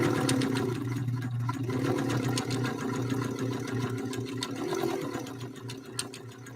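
An Elna Lotus SP sewing machine running a zigzag stitch through four layers of canvas, a steady, close mechanical whir and rapid needle chatter that keeps going throughout.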